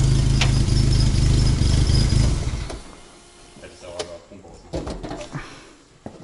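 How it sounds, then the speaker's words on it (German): An Opel Corsa A GSI racecar engine, started for the first time after more than ten years standing, rumbles loudly at idle for a couple of seconds and then cuts off, leaving quiet shuffling and small knocks. "Aber klingt gut der Motor, ne?"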